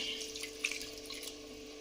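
Water is poured into a fish curry cooking in a pan, giving a faint, brief splash and trickle against a quiet kitchen hum.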